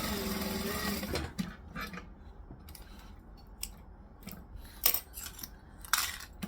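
A domestic sewing machine stitches in a quiet room while making an altered Nora garment, a steady motor whir in the first second followed by short bursts and clicks of fabric handling, starts and stops.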